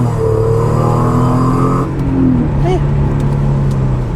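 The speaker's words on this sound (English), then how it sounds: "So let me get on the highway and try this out." A supercharged Audi accelerates onto a highway with a loud, steady engine drone and rising tonal whine under heavy road and wind noise, heard from inside the car. A voice briefly speaks over it.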